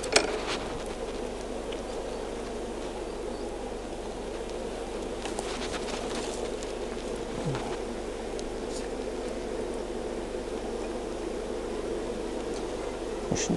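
A colony of bees buzzes steadily throughout during a transfer from a top bar nuc into a hive, a constant close hum with faint scattered clicks and no talking.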